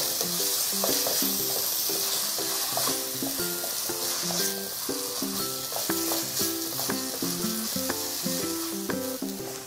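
Steady sizzling of nasi goreng frying in a pan with sesame oil, with a spatula scraping and clinking rhythmically as it's stirred throughout.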